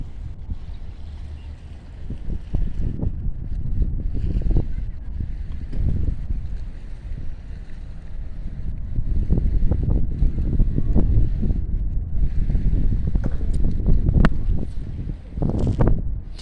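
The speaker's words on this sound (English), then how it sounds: "Cargo ship entering port. She's just entered in through the harbour entrance" A cargo ship enters port through the harbour entrance past North Head in Auckland, New Zealand, heard as a low, distant rumble under heavy wind buffeting the microphone.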